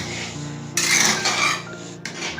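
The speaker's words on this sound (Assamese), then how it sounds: "এতিয়া মই ভালকৈ লৰাই দিম" Dal is stirred in a pressure cooker pot with a little added water for a simple Assamese vegetarian thali, heard as close metallic scraping and rasping of a spoon against the pot in two bursts, with no speech.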